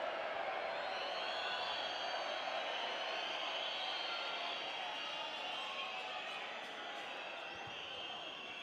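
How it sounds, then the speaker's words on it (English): Basketball arena crowd at a FIBA World Cup game between Argentina and Panama reacting after an offensive foul, a steady loud wash of roaring and jeering voices that holds throughout and eases slightly toward the end. "Crowd letting him know about it."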